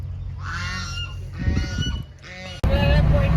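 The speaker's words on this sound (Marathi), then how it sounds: "बदक" Loud nasal honking and quacking comes from a group of ducks, in repeated overlapping calls close by. A brief break sits before a louder burst near the end.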